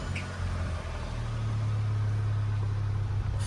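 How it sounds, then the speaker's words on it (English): A Volkswagen Golf MK5 GTI engine turning over and settling into a steady idle: a low, continuous mechanical hum and rumble, loud and close, with no talk. "So yeah, key in the ignition. I'll just start it up anyway."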